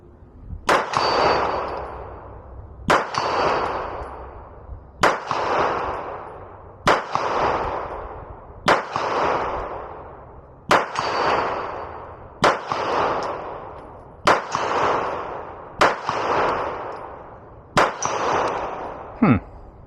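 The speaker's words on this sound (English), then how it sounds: "let's go ahead and shoot at that plate at 50 yards and see how we do right there" A Taran Tactical JW4 Pit Viper pistol fires at a steel plate 50 yards away. About ten loud shots come at a steady pace, roughly two seconds apart, each followed by a ringing clang that trails off.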